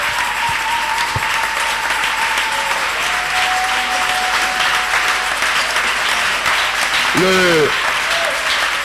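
A congregation at a church service in the airport district applauds to acclaim the Lord, with broad steady clapping filling the whole stretch, some voices mixed in, and a brief whistle-like sweep near the end.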